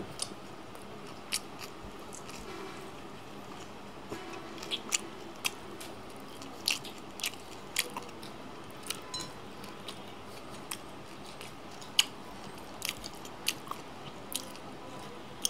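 Close, crisp biting and chewing on spicy fried tilapia fish with hot rice, lemon and salad, steady crunchy bites and wet chewing repeating at an uneven pace with no talk.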